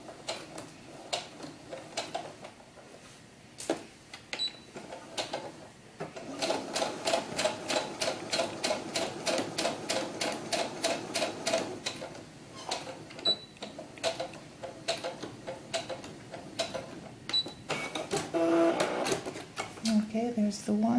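A sewing machine stitches the side seams of a doll's historical ball gown in bursts of fast, even mechanical clatter, close up, with a person talking between and over the stitching runs.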